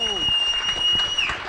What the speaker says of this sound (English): a massive round of applause for the champion in Manchester, Mr. Jun Shan Do!